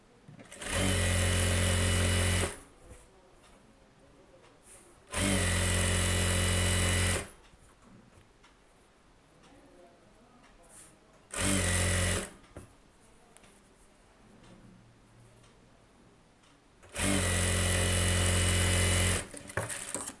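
Sewing machine stitching a folded-back two-inch hem on the back piece of a close-neck blouse, running in four loud bursts of about two seconds each, separated by quieter pauses with faint handling noise and no talk.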